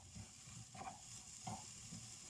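A spoon stirs salt, lemon pepper and curry seasoning into softened food in a pan, quiet scraping strokes over a faint low sizzle, distant and soft.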